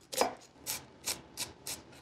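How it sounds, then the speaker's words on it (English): Half an onion chopped with a knife, five sharp chopping strikes in an uneven rhythm, close and fairly quiet, with no talk. "So I'm gonna begin by chopping a half of an onion."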